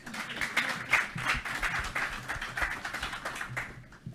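An audience at a Catholic congress applauds a speaker being welcomed to the front, a lively crowd of clapping with individual hand claps standing out in an uneven, pulsing rhythm.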